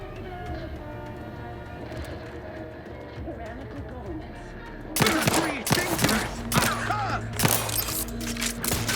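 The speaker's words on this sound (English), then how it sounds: "Explosion!" A grenade explosion in The Outer Worlds 2 video game goes off as a sudden loud burst, followed by crackling debris and clattering combat noise, with someone talking over the game sounds.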